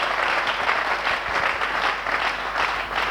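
A church congregation applauds loudly, a dense, sustained wash of clapping from many hands that holds steady throughout.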